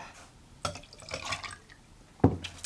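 Vanilla vodka is poured for a root beer foam cocktail, with brief liquid splashes and trickles, a stronger gush near the end, all fairly quiet.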